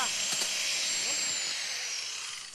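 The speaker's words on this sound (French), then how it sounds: "on découpe la partie des vis qui dépasse à la scie circulaire" A high-pitched whining cut from a circular saw biting through protruding metal screws on an old metal locker, loud and close, fading slightly at the end.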